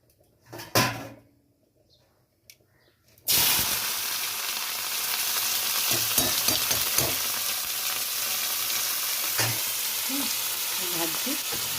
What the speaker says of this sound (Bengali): এই তেলের মধ্যে ভাজবো।